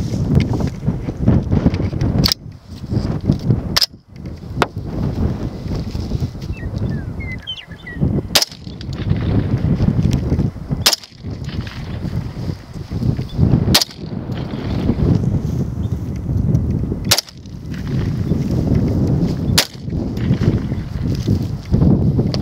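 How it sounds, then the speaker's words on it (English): Repeated gunshots from an HK USC carbine, about eight sharp reports at uneven intervals of roughly two to three seconds, fired outdoors over constant heavy wind noise on the microphone. "I'm shooting the HK USC."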